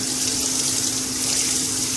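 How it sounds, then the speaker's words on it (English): Running water pours steadily from a tap as a tie-dyed shirt is rinsed under it, a constant close hiss with a faint hum beneath and no talking. "Basically what you're going to do is just rinse it until that water comes out clean"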